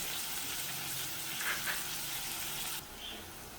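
Onion sautéing in a pan for methi matar malai, heard as a quiet, even hiss that carries on throughout and softens toward the end, with no voices.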